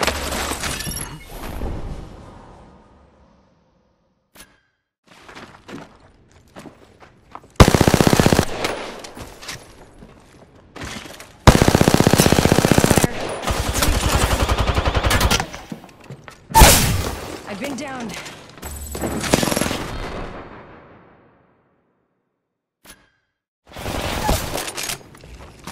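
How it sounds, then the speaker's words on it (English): Bursts of automatic gunfire in the battle-royale game Apex Legends, several loud rapid volleys separated by short quiet gaps, with scattered single shots and impacts, alone without talk. "Shots."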